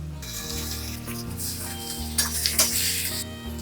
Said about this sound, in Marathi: आता हे गरम झालेल्या तुपामध्ये आपण ही केळी घालणार आहोत